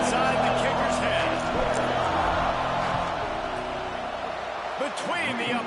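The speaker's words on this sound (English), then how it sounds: "This crowd trying to do its part to get inside the kicker's head." Stadium crowd in the college football game NCAA 26, LSU against Alabama, a steady loud roar and cheering that holds through a field goal attempt, with a commentator's voice over it.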